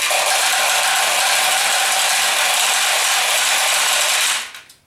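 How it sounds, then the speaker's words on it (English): Pachinko balls pour through the overflow chute of a Nishijin Model A machine, a dense, steady metallic rattle and clatter that runs without a break for over four seconds, then thins out and stops. "the balls will roll from here down into your receiving tray down and below"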